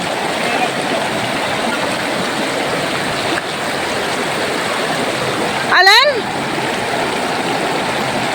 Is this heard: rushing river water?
yes